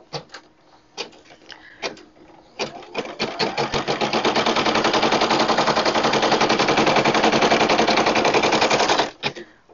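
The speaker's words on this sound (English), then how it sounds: "I'll just begin sewing or embroidering by putting down my presser foot and go" An embroidery machine stitching a hair barrette design starts with a few separate clacks, then settles into a loud, steady, fast mechanical hammering that runs for several seconds before stopping abruptly.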